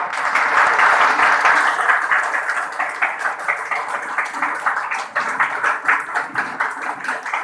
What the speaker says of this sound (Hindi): उनके सम्मान में एक जोरदार ताली मैं चाहता हूँ।